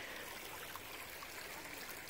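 A small creek flows quietly beside ferns, giving a faint, continuous trickling and burbling wash with no voices over it.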